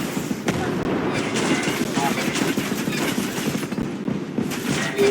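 Sustained turret gunfire from Ghost Recon Breakpoint, a dense, steady barrage of rapid shots and booms filling the whole stretch at constant loudness, with a voice faintly under it.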